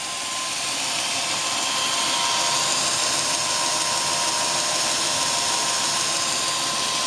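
A 2x72 belt grinder's 1.5 kilowatt, 2 horsepower electric motor runs steadily, giving a loud, continuous broadband whir with a faint tonal hum that holds constant throughout, with no talking.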